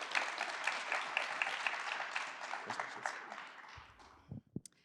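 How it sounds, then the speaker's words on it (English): Applause from the audience at a grant ceremony holds steady and then tapers off over the last second into a few scattered claps and small noises, fairly quiet overall. "Please give another round of applause and welcome them to the stage."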